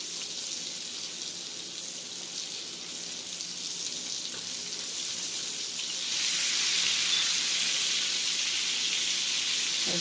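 Fish nuggets frying in a pan give off a steady, soft sizzling hiss with no talk, swelling brighter and louder over the last few seconds.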